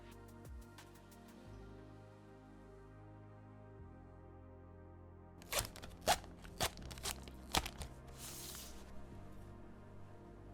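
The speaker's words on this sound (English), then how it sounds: "I'm just going to cut these small holes into the PE foam" Small holes are cut into PE foam for a keyboard build, giving quiet crunchy snips and crackles in a cluster of about six sharp bursts after a long near-silent stretch.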